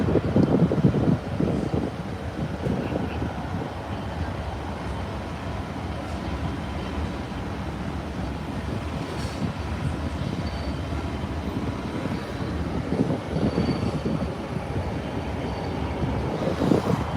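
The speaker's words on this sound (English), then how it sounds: "And I hear the sound of a large engine coming down." A large engine approaches outdoors near an airfield, a broad, continuous rumble that grows slightly toward the end, blended with heavy wind buffeting the microphone.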